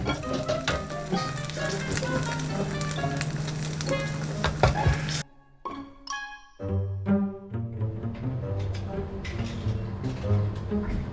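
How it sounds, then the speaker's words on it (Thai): Beaten eggs for an omelette sizzle and crackle loudly in hot oil, a dense continuous frying hiss with a brief dip partway through as the pan quiets before popping resumes. "ไปทอดไข่เจียวเลยนะครับทุกคน"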